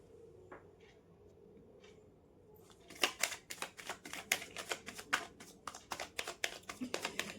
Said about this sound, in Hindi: एक बार और शफल कर लेती हूँ